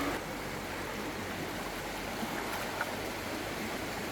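River water flows in a steady, soft rushing babble, continuous and fairly faint with an occasional small splash.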